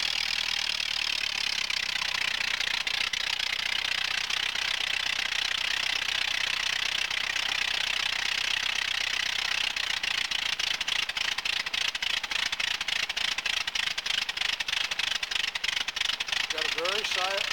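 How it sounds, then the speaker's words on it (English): A cold-started engine fitted with a Posa carburetor and electronic ignition idles slowly, at about 550 RPM, in a steady, hissing drone that turns into a rapid, regular ticking pulse during the second half. "This engine with our new electronic ignition will idle at about 550 RPM."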